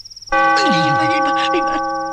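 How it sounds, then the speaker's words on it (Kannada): A church bell rings in a comedy film scene, its sustained, harmonically rich tone holding steady for about two seconds while a voice speaks over it. "ಚರ್ಚ್ ಬೆಲ್ಲು ಕಣ."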